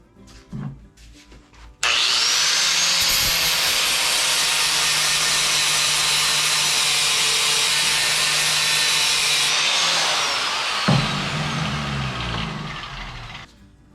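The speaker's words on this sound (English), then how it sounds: "I'm going to grind off the end of this and try and drive the rivet back through." Angle grinder cutting off the end of a rivet on a shovel handle clamped in a vise, a loud steady high-pitched grind lasting about eight seconds close up, then spinning down, with some clanking before and after.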